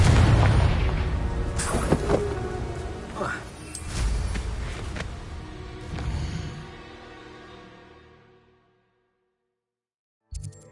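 In the Hogwarts Legacy video game, a Confringo spell detonates in a loud, booming burst with crackling debris and rumbling aftershocks. The blast fades out into silence, and a brief sharp sound follows near the end.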